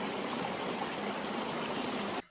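Jungle river at a hiking trail crossing in Costa Rica, rushing steadily as a broad, close, continuous wash of flowing water that cuts off abruptly near the end.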